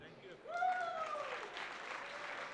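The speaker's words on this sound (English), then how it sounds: "Give them a louder round of applause" Audience applause at the Build 2016 U.S. Imagine Cup award presentation swells in after a brief voice and a couple of tonal sweeps, then holds as steady, dense clapping to the end.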